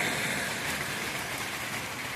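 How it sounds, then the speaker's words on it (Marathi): Steady pre-monsoon rain in May, an even broadband hiss of falling rain that holds constant and close throughout with no talking. "मे महिन्यातला पाऊस"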